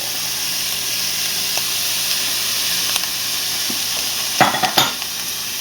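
Mushrooms sizzle in a hot frying pan, a steady close hiss of frying with a few sharp clatters and stirring scrapes near the end, no voices present.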